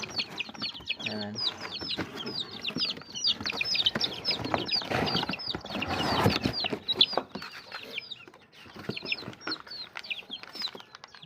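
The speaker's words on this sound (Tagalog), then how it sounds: "Kasi itong mga nasa karton, ang laman nito ay mga sisiw." Chicks cheep and peep in a cardboard box kept warm on a poultry farm, a dense run of high, rapid chirps with occasional clucks from nearby fowl and a person speaking briefly.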